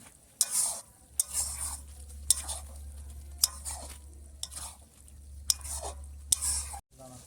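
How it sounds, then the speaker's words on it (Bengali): Goat meat is stirred and stir-fried in a pot, a soft sizzle under repeated scraping and clanking strokes of a spoon against the metal at a steady rhythm, fairly close and quiet. "এবার আমরা ভালো করে মাংসটাকে কষাবো।"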